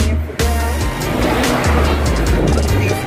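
A taxi car driving down a street in Havana, Cuba, heard from inside as a loud, steady rush of engine and road noise with low rumbling swells and brief bumps throughout.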